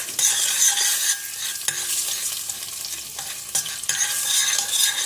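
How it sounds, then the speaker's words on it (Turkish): A tomato salad sautéing in a pan for a pasta sauce sizzles steadily and loudly, with the scrape of stirring cutting in at intervals throughout. "Salatamız iyice kavrulacak"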